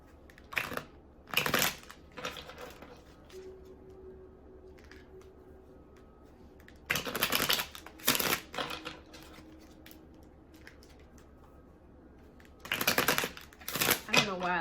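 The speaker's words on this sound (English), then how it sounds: "I don't know why I like to do so many shuffles before I pick a card" Tarot cards are shuffled before a reading in three separate bursts of brisk, close riffling and snapping, with quieter handling and a soft hum between them.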